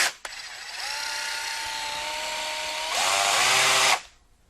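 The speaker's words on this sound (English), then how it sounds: "I call this a mouse sander" Black & Decker Matrix electric mouse sander running steadily near the mic, a high buzzing whine that rises in pitch and intensity for its last second before cutting off; no talk.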